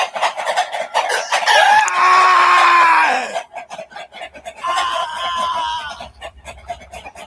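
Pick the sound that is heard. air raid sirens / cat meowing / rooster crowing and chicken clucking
rooster crowing and chicken clucking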